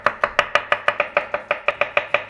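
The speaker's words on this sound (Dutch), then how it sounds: "Alle knoflook in hele dunne plakken, dus die pak je beet." Rapid, steady knife strokes slicing garlic thinly against a board, about fifteen crisp taps in quick even rhythm, close and clear with no talking.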